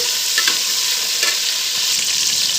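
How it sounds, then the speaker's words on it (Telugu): Onions, curry leaves and tomatoes fry in a pan for a fish pulusu curry, giving a steady close sizzle with a few faint stirring scrapes and no voices. "వీటిని కొద్దిగా అలా లైట్గా ఫ్రై అవ్వనివ్వండి"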